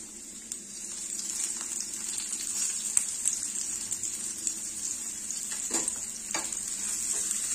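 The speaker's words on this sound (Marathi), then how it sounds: "कांदा थोडासा परतून घ्यायचा आहे।" Onion sautéing in a spoonful of ghee in a pan, a steady hiss of sizzling with occasional scrapes and taps of a spoon, fairly quiet and close.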